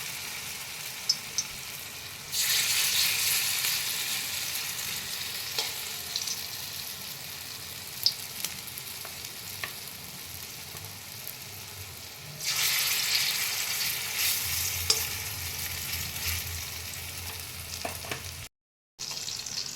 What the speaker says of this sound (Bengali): এবার আমি কোপ্তাগুলো ভেজে নেব। পটলের কোপ্তা।